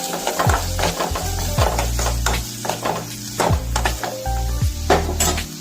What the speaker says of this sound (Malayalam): പിന്നെ ഉള്ളിയും പച്ചമുളകും അരിഞ്ഞു വെക്കുന്നുണ്ടായിരുന്നു. അത് ഈ എണ്ണയിലിട്ടൊന്ന് വഴറ്റിയെടുക്കാം